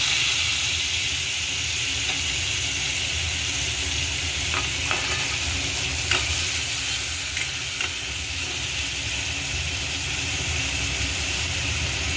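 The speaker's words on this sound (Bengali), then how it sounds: "বেশি ভাজবো না, হয়ে গেছে, পেঁয়াজটা ভাজা হয়ে গেছে।" Onions frying in a pan for chicken sweet corn soup give a steady, close sizzle and hiss throughout, with a few brief stirring scrapes breaking through, and no voices.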